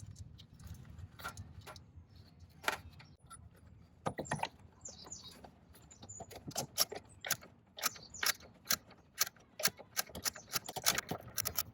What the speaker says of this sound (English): We're going to screw this one out and screw a new one in